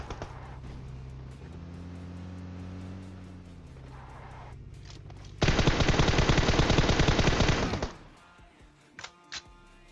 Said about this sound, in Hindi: वो लोग बहुत जोर से गोलियां चलाते हैं